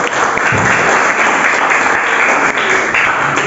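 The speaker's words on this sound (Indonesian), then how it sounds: "Ya betul, tepuk tangan ya." A classroom of students applauds loudly and continuously, a dense wash of clapping close by that fills the whole stretch without pause.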